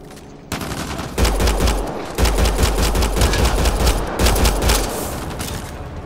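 Rapid bursts of automatic gunfire from the player's weapon in Mass Effect: Andromeda, loud and close, in several sustained volleys with short pauses between them.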